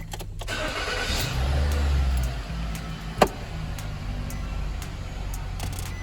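A 2012 Nissan Rogue starts and runs on a test drive, a steady low engine hum from inside the cabin with one sharp knock partway through and faint clicks, no talking.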